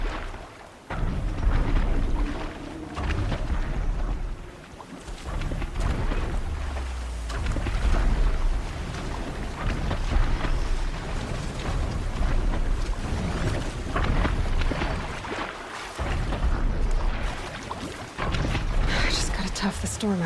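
Stormy weather in the Horizon Zero Dawn video game: steady heavy rain and wind with low rumbling thunder swelling throughout, loud and continuous, with voices speaking over it at times.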